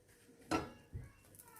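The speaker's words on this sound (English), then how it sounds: "So now we flip it." Pancake flipped in a pan with a spatula: a quick scrape and soft clatter followed by a dull thud as it lands, quiet and close in a home kitchen.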